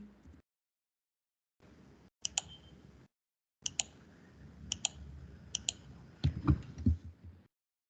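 Keyboard typing in short bursts of light, quiet clicks separated by pauses of near silence, with a few sharper key taps standing out.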